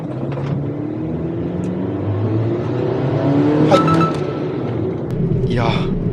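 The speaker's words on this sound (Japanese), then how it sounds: "次信号止まったら0から40まで強めに踏んでタイム計測してみます。" A Nissan NV200 camper van accelerating hard from a standstill to about 40 km/h, its engine note rising steadily and growing louder over a few seconds, heard from inside with road noise throughout.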